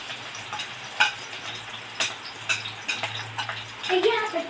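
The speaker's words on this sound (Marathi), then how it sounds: "आता आपण या तेलात मिरच्या टाकूया" Green chillies fry in oil in a pan for sabudana khichdi, a soft sizzle under repeated clinks and scrapes of a spoon stirring against the metal.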